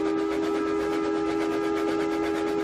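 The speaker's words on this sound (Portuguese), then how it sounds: "E o apito de um terceiro trem iluminado soou." A long, steady train whistle sounds loud and unbroken, a sustained tonal blast that fills the whole moment with no voices.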